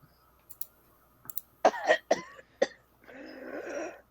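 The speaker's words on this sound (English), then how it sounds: "you wake up coughing and sputtering." A woman coughs and sputters in several sharp, close bursts, with a few clicks before them, then ends in a short raspy gasping breath; no talking.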